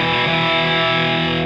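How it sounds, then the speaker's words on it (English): A sustained, buzzy distorted guitar tone through an Empress Multidrive pedal with a low-pass filter engaged, loud and dense, holding steady with a slight darkening toward the end. "I'll put the low pass filter so you can hear what that does."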